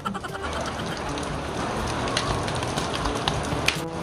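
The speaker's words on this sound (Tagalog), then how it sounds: "Ate Beda, maligo na tayo ng ulan." Steady rain falls outdoors while children bathe and play in it, a continuous broadband patter with scattered sharper drops and no clear talk.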